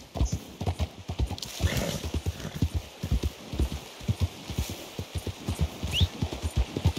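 Steady clip-clop of horse hooves at a walking pace in the video game Red Dead Redemption 2, fairly close, with a brief whinny partway through and a soft ambient bed behind.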